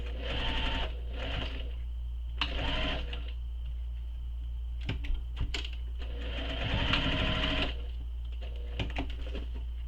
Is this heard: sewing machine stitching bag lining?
yes